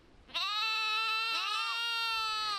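A sheep on the Faroe Islands bleats once, a single long, loud, wavering call close by with a clear quiet start before it.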